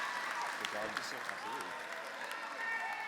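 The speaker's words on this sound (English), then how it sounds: "Please join me in applauding this year's Pinnacle Award honorees." A graduation audience at Hampden Charter School of Science claps for award honorees. The applause is soft and distant beneath a speaker's amplified voice, which dominates throughout.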